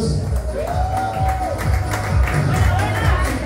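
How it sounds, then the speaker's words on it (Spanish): A live audience at a television show applauds with clapping, scattered cheers and whoops. A voice and sliding musical tones play over the crowd noise. "démosle un gran aplauso a ellos"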